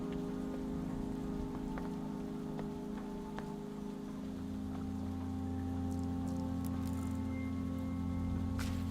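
Rain drumming steadily on the roof of a houseboat in the video game Zero Parades, a dense continuous patter with a low drone underneath and a few sharper drips toward the end.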